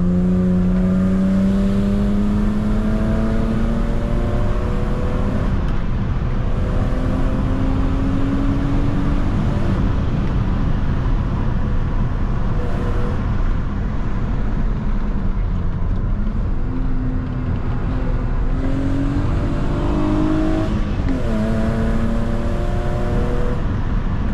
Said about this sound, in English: Listen to that 6-cylinder engine noise, guys.